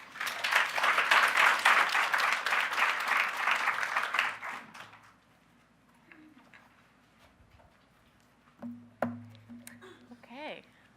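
An audience applauds to welcome speakers onto a panel at a spring event. The clapping is loud and full for about four seconds, then fades out, and a few faint thumps and small noises follow.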